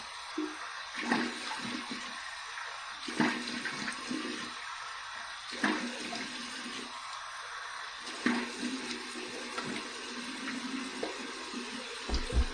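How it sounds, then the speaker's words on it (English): Cold water running from a tap into a sink during a post-shave rinse, an ongoing hiss with repeated splashing surges as hands dip in, close and fairly soft with no talking. "Here's my cold water rinse."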